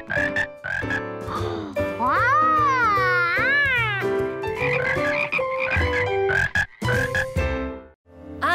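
Loud, close frog croaks repeat with rising, wavering tones and short pauses between calls, sounding like a voice imitating a frog in a children's cartoon.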